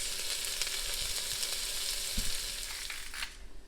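Onions and celery sizzle in olive oil in a pot for tomato basil soup, a steady close frying hiss with a few brief stirring clatters and no talking.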